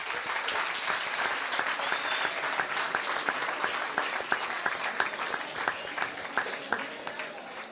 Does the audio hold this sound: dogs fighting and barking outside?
no